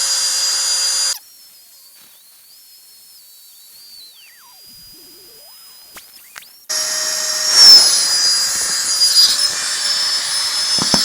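A small electric air pump inflating a camping sleeping pad gives a loud, steady high whine, stops for several seconds while a faint tone lingers, then starts again and runs with a slight wavering.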